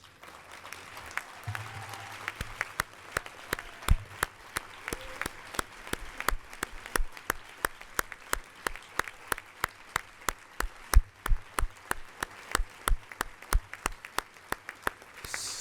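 A conference audience applauds transgender attendees standing in the room, steady rapid clapping from many hands that keeps up for over fifteen seconds at moderate loudness, with no voices over it.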